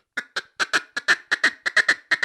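A duck call blown in a feed chuckle: a quick, rhythmic run of about a dozen short, raspy quacking notes, close and loud with no one talking over it.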